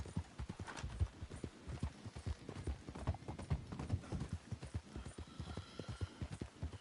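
Horse galloping in Red Dead Redemption 2, a rapid steady drum of hoofbeats close up with a brief whinny-like snort near the end.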